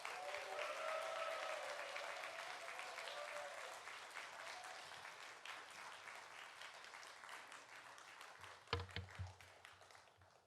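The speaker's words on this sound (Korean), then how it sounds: "박수로 환영합니다." A church congregation at a Wednesday service applauds a pastor being welcomed, steady dense clapping filling the hall for several seconds before thinning out, with a few faint voices underneath.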